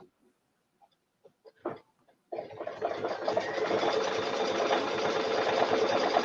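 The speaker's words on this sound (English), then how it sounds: "So now I'm going to hold these two threads together as I start my machine stitching." A few soft handling taps, then a quilting machine starts stitching a quilt, running as a steady, loud, continuous mechanical whir alone.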